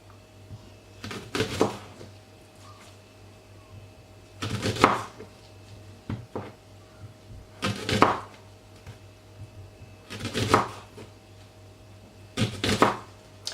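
A knife slices onion thinly on a board for a meat seasoning, five slow, evenly spaced bursts of cutting with crisp chops against the board, close and clear, with quiet pauses between and no talking.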